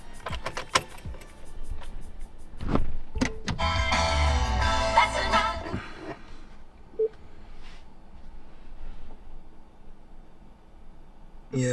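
A power window motor whirs for a few seconds inside a base Subaru WRX, framed by sharp clicks and short electronic tones, then settles into a quiet, steady cabin hum.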